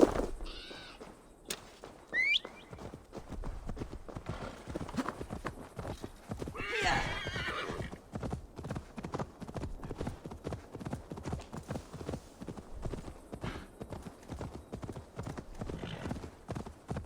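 Hooves clip-clop steadily as a horse moves through the open world of Assassin's Creed Valhalla, with a clear neigh and whinny early on and faint bird calls over a quiet ambient bed.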